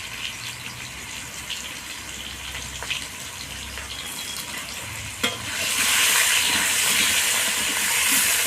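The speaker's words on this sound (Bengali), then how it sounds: "এবার আমি মাছ ভাজা তেলের মধ্যে আলুগুলোকে ভেজে নেব" Potatoes fry in oil left over from frying fish, seasoned with salt and turmeric, giving a steady dense sizzle that swells louder toward the end, with no talking.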